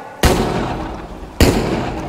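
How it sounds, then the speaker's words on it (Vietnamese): Two sharp, loud gunshots from a shootout scene, the first just after the start and the second about a second later, each with a booming decay into a noisy background. "Tòng vào đây, Tòng bắn cho vỡ sọ."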